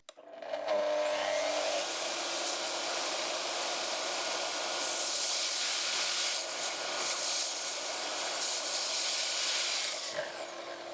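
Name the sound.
saw with connected vacuum running from Jackery power station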